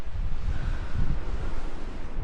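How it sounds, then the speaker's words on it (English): Steady wind buffets the microphone on a mountain trail along the Pacific Crest Trail near Tehachapi, a constant low roaring rush with gusty swells and no voices. "I didn't even think about the wind."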